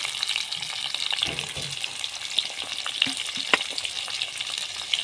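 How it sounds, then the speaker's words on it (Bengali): Chopped onion hitting hot oil with whole cumin seeds for white pulao, a steady close sizzle with bursts of crackle and a few scraping stirs, no voices. "এবার প্রথমে আমি দিয়ে দেব পেঁয়াজ কুচি"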